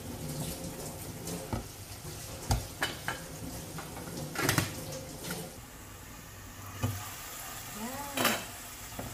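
Ground pork sizzling and frying in a pan for Filipino tortang talong, a steady crackling hiss with occasional stirring clatters and scrapes, plus a brief splash of running tap water near the end.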